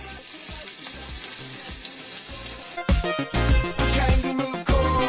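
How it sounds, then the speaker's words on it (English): Brussels sprouts placed face down in hot bacon grease in a pan hiss and sizzle loudly and steadily, with clattering knocks and scraping joining partway through. "we're going to place Brussels sprouts face down in our lovely"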